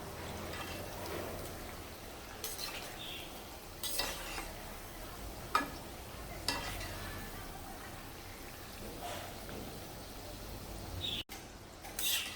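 Wheat flour kaapnya frying in hot oil over a low to medium flame give a steady, fairly quiet sizzle with occasional brief louder crackles and stirring scrapes, no voices.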